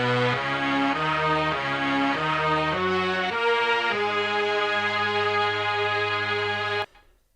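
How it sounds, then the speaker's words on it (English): A GForce M-Tron Pro mellotron full orchestra tape bank plays a stepping chord melody, loud and close, with sustained tape-orchestra tones shifting every half second or so before cutting off abruptly. "but we have this mellotron that comes in, and it's a full-on orchestra sound"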